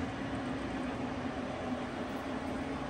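A WMW-Heckert 1800 x 500 mm dual spindle universal milling machine runs at 224 RPM, a steady, even mechanical drone with a constant low hum and no breaks.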